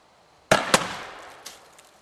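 PMOG airsoft shell fired and exploding outdoors about 60 feet away: two sharp cracking pops in quick succession, then a fainter third pop echoing off as the sound decays.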